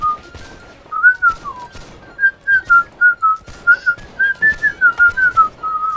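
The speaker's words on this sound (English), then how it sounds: "That sounds glorious. Glorious whistling." Melodic whistling in a Napoleonic battle video game rises and falls in a run of short, clear notes, with several slurred phrases near the start. It plays fairly loud with no talk over it.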